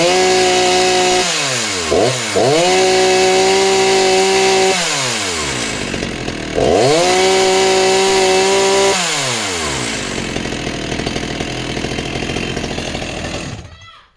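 Vintage chainsaw, an Italian Castel CS50 or a West German Stihl 028AV, running close and loud: two long high revs with a dip back toward idle between them, then a rough idle before the engine cuts out.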